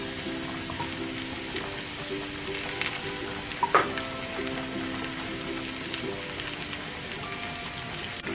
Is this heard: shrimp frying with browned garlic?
yes